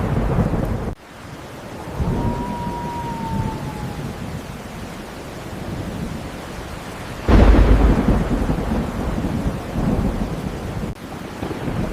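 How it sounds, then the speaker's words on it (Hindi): Heavy rain pours steadily as a continuous roar, and a loud crack of thunder bursts in partway through before rumbling on beneath the downpour. "हे भगवान, ये कैसा बारिश होने लगा? इतना बारिश पहली बार देखा।"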